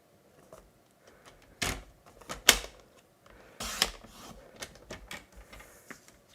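Stacked card panels being cut into strips on a paper trimmer, heard as a few sharp, close slicing swipes and clicks spaced across a quiet room with no talking.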